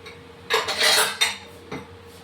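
A lid set down over a bowl of freshly kneaded karanji dough: a few close, hard clinks and clatters of metal and dishware in quick succession, then one last knock.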